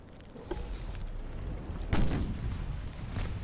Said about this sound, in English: why worry about torpedoes when you can take crushing damage from ammo detonations